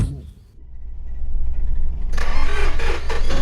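A truck engine cranks briefly after a pause, catches and roars into loud running, close by, with voices shouting over it.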